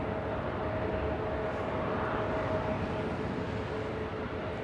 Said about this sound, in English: WestJet 1697 flying to Vancouver, a 737-800.